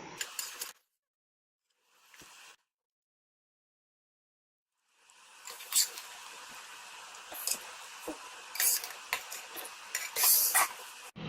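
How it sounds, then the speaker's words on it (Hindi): Vegetable biryani being transferred from a pot into a tray, with close scraping, clinking spoon-on-metal scoops and soft rice thuds that come in bursts after a few silent gaps. "अब इसको हम एक ट्रे में ट्रांसफ़र करेंगे।"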